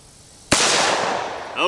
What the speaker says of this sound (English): Safety off, ready to shoot.